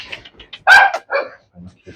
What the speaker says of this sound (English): They usually bark and snarl at me.